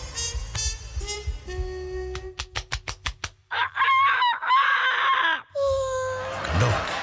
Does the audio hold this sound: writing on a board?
no